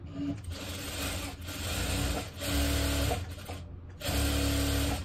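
A sewing machine runs in steady bursts of stitching on net fabric about 8 to 10 inches long, with a close, continuous mechanical whir, a brief pause near the end and then more stitching.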